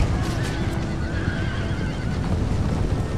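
Cavalry horses in the video game Empire Total War neigh and whinny loudly over a dense battle din with hoof clatter, continuous and close with no talking.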